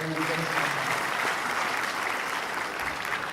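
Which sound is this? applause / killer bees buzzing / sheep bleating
applause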